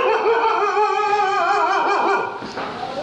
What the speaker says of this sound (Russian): Собака лает на свинью.